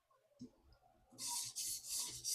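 A Monterey Bay Sabertooth knife blade is drawn across a TSProf diamond sharpening stone, a few quiet rasping strokes close up, growing louder and more rhythmic toward the end.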